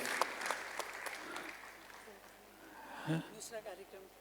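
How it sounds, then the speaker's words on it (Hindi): An audience at an Indian classical dance performance claps steadily, with noise close by that tapers and gives way to scattered sounds. "सबके लिए ताली बजाइए।"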